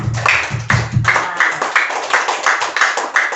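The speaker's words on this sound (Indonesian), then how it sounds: "tepuk tangan untuk Kaisan." Schoolchildren in a classroom clap together in a steady, rhythmic pattern of evenly spaced claps, close and fairly loud, following a brief bit of talk at the start.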